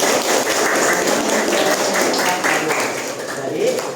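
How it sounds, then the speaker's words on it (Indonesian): Students in a school religious-education class clap their hands together in quick, loud bursts, mixed with voices talking over the clapping. "Oke, ya tepuk tangan dulu"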